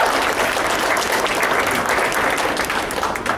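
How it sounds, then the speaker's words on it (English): Audience applause at a university poetry event, loud continuous clapping from a room full of people, steady throughout without any talk. "So just one more round of applause for her."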